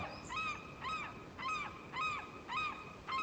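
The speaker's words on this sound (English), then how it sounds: "Here the birds, seagulls." Seagulls cry in a round of Golf+ VR on a St. Andrews course: about six high, wavering calls repeat at an even, steady pace over faint background ambience, with no talking.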